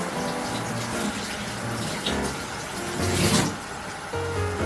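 Tap water runs steadily while food is rinsed for curry chicken, a continuous close splashing hiss with brief swells as the stream hits the food, and no talk.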